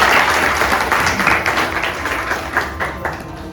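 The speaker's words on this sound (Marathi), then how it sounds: "तर त्यांच्या उत्साहासाठी एकदा जोरदार टाळ्या द्यायच्या" An indoor audience at a guru tribute music gathering claps loudly in a dense burst of applause that fades slightly toward the end.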